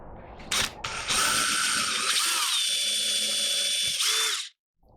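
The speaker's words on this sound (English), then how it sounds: "pick an end of this thing and drill a small hole in it" A small power drill whirs up to a high steady whine for a few seconds, then spins down and stops, preceded by a couple of clicks.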